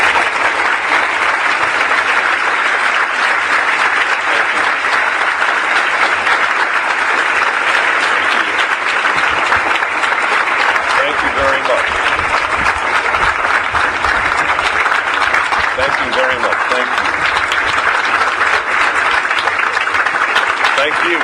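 Audience applause after a speech, a loud, sustained wash of clapping from a large crowd lasting the whole stretch without letting up.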